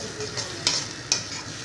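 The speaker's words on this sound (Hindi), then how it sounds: "इस टाइप से मसालों को ऐड किया गया है और सभी को अच्छे से फ्राई कर लेंगे" Bottle gourd frying with garam masala and spices, a steady close sizzle broken by two sharp scrapes of a spoon stirring against the pan.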